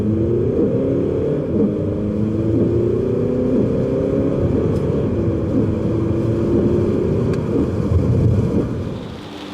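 Inside a moving Volkswagen car, a steady low engine and road drone holds throughout with smooth slight rises in pitch, close and constant, no talk.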